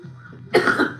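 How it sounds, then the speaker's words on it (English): A person coughs after a hit of shisha-like vapor, a low throaty rumble building into one loud harsh cough burst and a short second bark, close to the ear. "I say as I cough up a lung."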